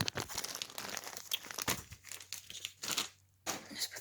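A thin plastic bag crinkles and rustles close up as an air conditioner motor is pulled out of it, with irregular crackling bursts and short pauses.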